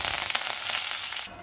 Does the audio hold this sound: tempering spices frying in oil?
yes